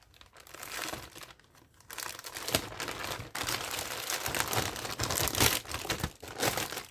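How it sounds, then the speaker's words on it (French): Crinkly plastic and paper packaging of a fairy cross stitch painting kit being unwrapped, with steady close crumpling and tearing rustles that swell and pause. "On va déballer tout ça."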